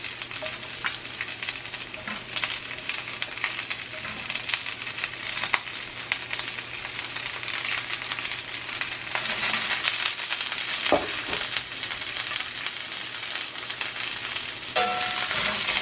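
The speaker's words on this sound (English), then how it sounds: "Fry these bad boys up until they become soft" Bell peppers fry in a pan with a continuous close sizzle, broken by occasional scraping stirs and small clinks, no talking.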